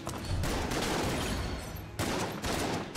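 Gunfire from the Jolter in Enter the Gungeon, a dense, continuous rattle of rapid shots filling a noisy game soundscape, with a brief break near the two-second mark before the firing resumes.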